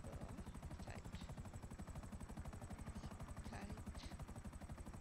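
A helicopter in the game GTA makes a steady, rapid rotor chop that runs continuously throughout, loud and close, while a voice speaks briefly over it.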